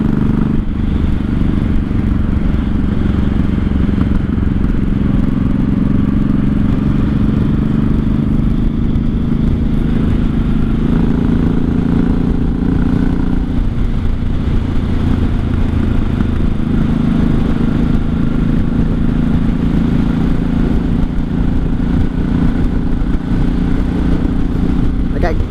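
A 1983 Honda Shadow VT750C motorcycle on a test ride, its engine droning steadily and loud throughout with a low rumble and shifting pitch under rushing wind.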